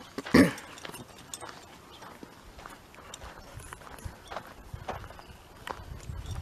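Horse hooves clip-clop in a few scattered, faint steps on the ground, one sharp knock standing out near the start against quiet outdoor background.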